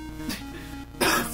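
A person coughs loudly and close up in one harsh burst near the end, after a stretch of quiet room sound.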